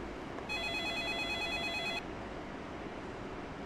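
A bar telephone rings in the Yakuza Kiwami video game, one steady electronic trill lasting about a second and a half, clear over a low background ambience.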